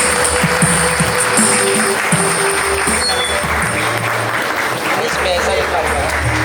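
A Lutheran church gathering in Raipur breaks into loud, sustained clapping, dense applause mixed with crowd noise and voices, with tonal sounds running through it.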